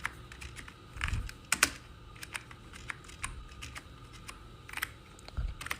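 Fingers type on a computer keyboard while filling in a Word table, producing irregular close key clicks in short bursts with a few louder taps and brief pauses, with no voices.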